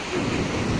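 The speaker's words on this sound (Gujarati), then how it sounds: "ઉભો થા આવ્યું મોજું" Sea waves break on the shore in a brief, steady rush of churning surf, close and moderately loud, with wind buffeting mixed into the wash of water.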